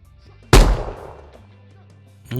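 A single loud pistol shot fires in a video game, a sharp crack followed by a decaying tail over a low background hum, with another sharp sound beginning at the very end.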